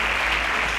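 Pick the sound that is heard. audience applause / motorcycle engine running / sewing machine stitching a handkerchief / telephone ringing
audience applause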